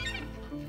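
Chickens cluck softly among a backyard flock of chickens and ducks at afternoon treat time, a brief, faint burst of low clucking with no talking.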